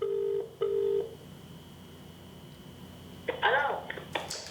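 A telephone is dialed for a call: steady tones come first, then a quick run of keypad beeps near the end, with faint background noise throughout.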